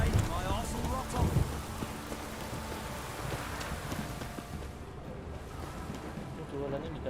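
Rain falling in The Witcher 3, a steady wash of downpour mixed with wind and water ambience, fairly loud and constant, quieting somewhat toward the end.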